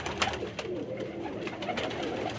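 Ali wala pigeons at a Sialkot pigeon loft coo in soft, low, repeated calls over a steady noisy background, with other birds faintly present.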